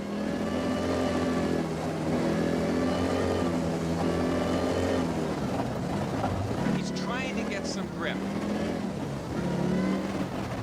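Rally car engine at the 1994 Tall Pines Rally as the driver works the throttle on and off through a wooded section, loud revs rising and dropping repeatedly with gear and tyre noise, while a voice speaks briefly over it.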